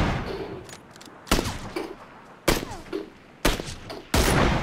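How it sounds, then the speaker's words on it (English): Gunfire in a PUBG squad match near Mylta Power: four loud, sharp shots spaced about a second apart, each with a short echoing tail, over quiet in-game ambience. "we're taking shots over here"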